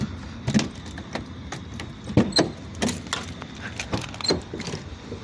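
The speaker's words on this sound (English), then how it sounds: "Let's get this door open over there." A series of sharp mechanical clicks and clunks as a Lexus SC400 car door latch and hinge are worked open, close by with a quiet pause between sounds.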